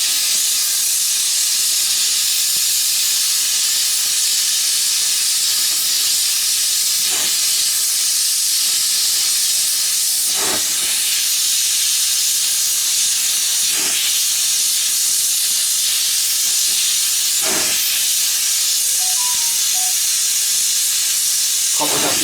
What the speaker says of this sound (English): The heat source is going to be oxypropane